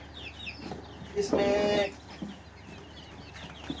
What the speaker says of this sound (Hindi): ये छोटे चिक्स पड़े हुए हैं जी माशाल्लाह से।